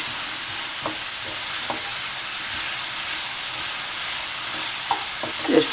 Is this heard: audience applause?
no